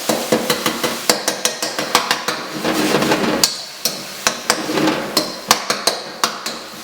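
A knife chops and minces garlic with beef on a cutting board for Thai beef pad krapow, giving rapid, close, sharp repeated knocks in an irregular rhythm with a brief scraping pause midway.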